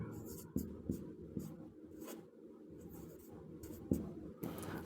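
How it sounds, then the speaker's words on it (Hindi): A pen scratches across paper while an example sentence is written out, with short separate strokes and small taps in an uneven rhythm, close and quiet, no talking. "तो लिखेंगे"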